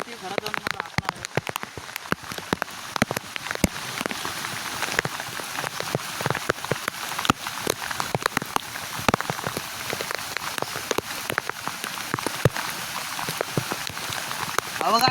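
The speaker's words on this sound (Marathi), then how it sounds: "मित्रांनो पाऊस पण खूप आहे." Heavy rain in the Konkan countryside during a crab-catching trip, dense pattering with sharp nearby drops striking a plastic cover in an uneven, crackling stream, with a voice occasionally heard.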